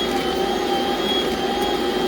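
A kitchen stand mixer runs while kneading soft bread dough for Halloween boo rolls, giving a steady, loud motor whir and hum that holds unchanged throughout with no talking.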